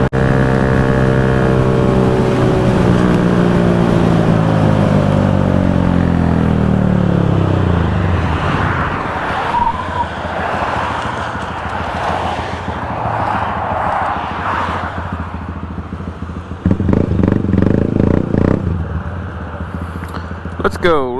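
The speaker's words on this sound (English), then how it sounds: "This Grom sounds really good." A 2018 Honda Grom motorcycle engine revs up through the gears, the pitch climbing and falling in repeated sweeps, then settles into a rough loud drone, close and continuous, with a brief harsher burst of revving near the end.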